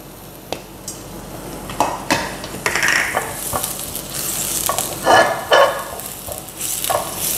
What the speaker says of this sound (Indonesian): Terus bawang merah, bawang putihnya ditumis dulu.